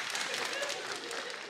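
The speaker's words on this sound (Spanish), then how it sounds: "Aplausos para Juanpis." Studio audience applause on a Colombian TV comedy show, a dense burst of clapping that fills the short moment, loud and sustained.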